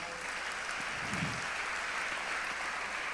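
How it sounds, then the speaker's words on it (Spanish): A church congregation applauds for the Lord during a Spanish-language sermon, a steady, dense wash of clapping that stays even in level throughout with no voices over it. "¿Alguien le puede dar un aplauso al Señor?"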